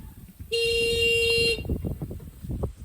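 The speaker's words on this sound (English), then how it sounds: "The little horn honking." A small tractor's horn sounds one loud, steady honk lasting about a second, out in a barnyard with goats, followed by rustling and handling noise.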